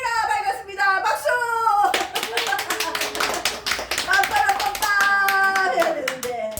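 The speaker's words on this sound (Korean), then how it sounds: "박수!" A church congregation claps at a New Year's Eve service with quick, dense, loud handclaps. Voices sing and call out over the clapping throughout.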